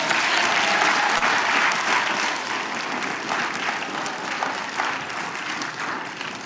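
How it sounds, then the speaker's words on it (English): A round of applause for a seventh-grade student during an online meeting: loud, dense clapping that starts strong and gradually thins and softens toward the end, with no talk over it. "Let's give him a round of applause."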